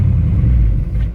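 A GMT 400 truck engine with a new motor and adjusted timing runs steadily, a loud, close, continuous low rumble with slight unevenness and no voices over it.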